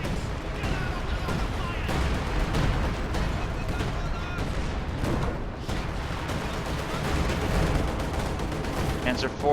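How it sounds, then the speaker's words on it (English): Artillery and heavy mortar fire in a WWII strategy video game, with rumbling blasts and crackling gunfire forming a dense, continuous battle din under a commentator's voice. "Heavy mortar landing on this bunker here in the center."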